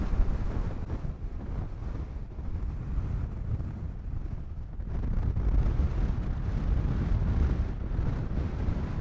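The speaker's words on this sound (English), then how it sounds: "Hope this wind isn't too ridiculous for the camera" Strong wind gusting across an exposed Peak District hillside during a wild camp, a constant heavy low rumble buffeting the microphone with no talking.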